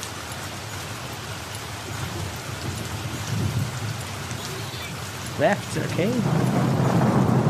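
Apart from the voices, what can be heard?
rainstorm with thunder in A Blind Legend video game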